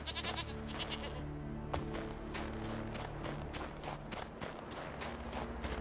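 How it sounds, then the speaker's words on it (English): Goats bleat repeatedly in The Witcher 3: Wild Hunt, several wavering calls close by over soft ambient game sound with faint hoof or footstep clatter. "Oh, it's just goats."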